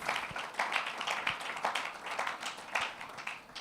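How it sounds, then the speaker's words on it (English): An audience at a STEM festival launch event applauds after a speech, with brisk, dense clapping at moderate volume throughout the short stretch. "Let's give a round of applause once again."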